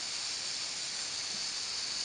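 A pressure cooker releases steam in a steady, even hiss that stays constant and moderately quiet from start to finish, with no voices.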